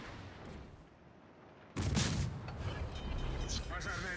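A Kirov warship firing a naval gun volley in a video game: a quiet rumbling lead-in, then a sudden loud booming salvo with rolling echoes, while a voice talks underneath.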